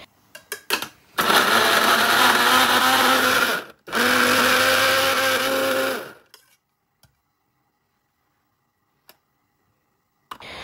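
An electric kitchen blender grinds onion, garlic and ginger in two loud bursts, the first about three seconds and the second a little over two, with a short pause between, followed by quiet with faint clicks and no talking.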